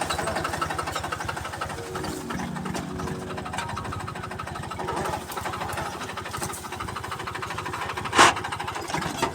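A mini tractor engine runs steadily while it ploughs through a cotton field, giving a continuous mid-pitched mechanical drone with a brief louder knock near the end.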